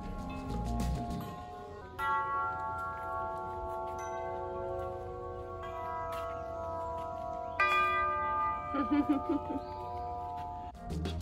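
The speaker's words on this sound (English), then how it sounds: "you have to ring every chime possible" Metal chimes in an outdoor sound garden ring in clustered strikes, their sustained bright tones layering and decaying over a low rumble, moderately faint, with a fresh round of chimes struck partway through.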